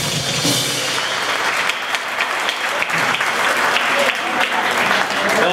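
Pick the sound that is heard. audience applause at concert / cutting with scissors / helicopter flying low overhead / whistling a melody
audience applause at concert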